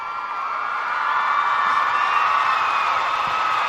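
A played applause and cheering sound effect, a short burst of crowd whoops and clapping that rises and holds steady and loud.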